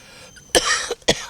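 A few harsh, close coughs in quick succession in Kryvyi Rih, where the air is polluted, the first strongest, with short pauses between.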